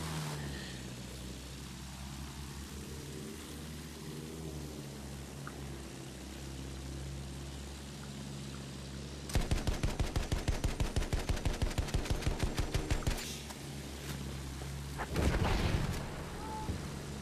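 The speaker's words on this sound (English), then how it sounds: "I don't fucking see where I'm getting shot at with the AA gun" An anti-aircraft gun in Battlefield 1 fires a long rapid burst of evenly spaced, loud heavy shots over a low rumbling battlefield drone, followed shortly after by a single booming blast.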